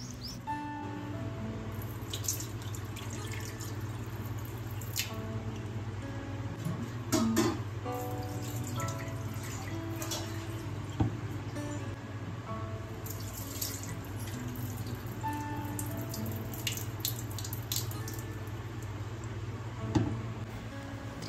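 Little millet grains are rinsed under running tap water in a kitchen sink, a steady close splashing stream with scattered drips and clinks, heard alone without talk.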